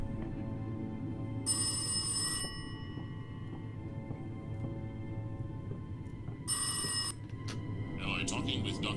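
A telephone rings twice in the horror game Rise of Insanity, with two bright bursts of bell-like ringing separated by a few seconds over a low droning ambience, while someone talks throughout.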